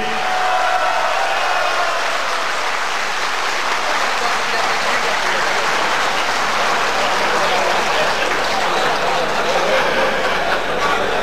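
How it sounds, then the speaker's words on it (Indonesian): An audience at a party national working meeting in Ancol, Jakarta, applauds in a large hall, producing a dense, sustained wash of clapping that stays loud and steady throughout, with faint voices mixed in. "Sekali lagi saya minta berikan tepuk tangan"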